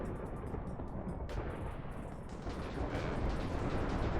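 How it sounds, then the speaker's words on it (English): Explosions in the Minecraft modpack Project Ozone 3 Mythic, heard as a dense, continuous roar of rumbling blasts with crackling bursts. It stays loud for the whole stretch, with no voices over it. "Lots of explosions, of course."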